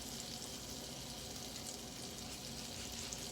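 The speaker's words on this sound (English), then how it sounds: "I am searing it on both sides to sear in the juices." T-bone steak sears in a hot pan with a steady, dense sizzle and crackle that holds at an even level throughout, close by and with no voices.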